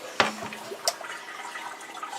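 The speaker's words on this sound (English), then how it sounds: "I'm going to drain my potatoes because I put them in some water" Water drains from a pot of soaking potatoes with a steady pouring rush and a few clunks of the pot, close by.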